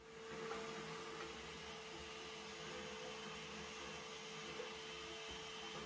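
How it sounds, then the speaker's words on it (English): A shop vacuum sucking up water drones steadily with a constant whine, running alone without pause for several seconds. "I'll vacuum that out with a shop vac"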